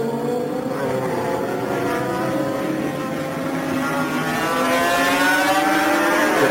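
Norton and Suzuki racing motorcycles in a race, engines droning steadily at mid distance with rising and falling pitch as the machines pass, no talk over them.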